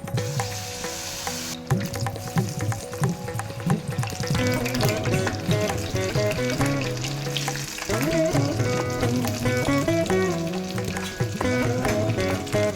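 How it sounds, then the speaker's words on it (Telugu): Ajwain leaf bajjis in batter deep-frying in hot oil, a dense continuous bubbling sizzle with crackles and occasional clinks close by, no talking. "నూనె వేడయ్యాక వామాకు ఇలా పిండిలో పూర్తిగా ముంచి జాగ్రత్తగా నూనెలో వేసుకోవాలి."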